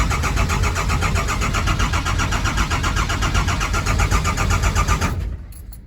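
A car engine with a suspected bad injector cranks and catches, then runs loud and rough for about five seconds before cutting off abruptly into near silence.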